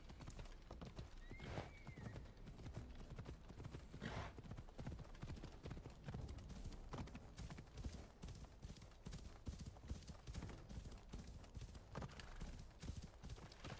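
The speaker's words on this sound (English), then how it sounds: "This is just the worst location where you can ride your horse across the salt dunes here." A horse gallops across salt dunes in Assassin's Creed Odyssey, with rapid rhythmic clip-clop hoofbeats, a brief neigh early on and occasional snorts, all at a fairly low level.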